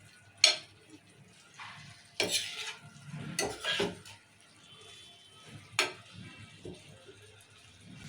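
Ivy gourd frying in oil in a pan for a moong dal curry, quiet sizzling broken by several sharp scrapes and clinks of a spoon stirring against the metal.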